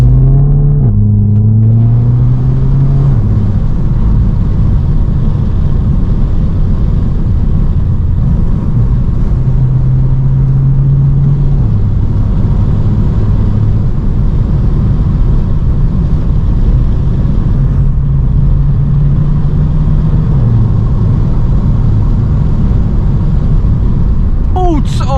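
A Volkswagen Scirocco drives along the road, heard from inside the cabin as a loud, constant engine drone and road rumble, with the engine note rising and dropping through gear changes.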